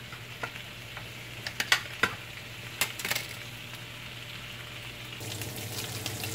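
Beef rump roast slices frying in bacon fat in a pan, a steady low sizzle running throughout with a few sharp pops and crackles near the start, close and fairly quiet, with no talking.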